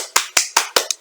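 Five quick, sharp claps in a steady rhythm from a small classroom group during a history revision lesson, close and fairly loud, the last one softer, with no talking.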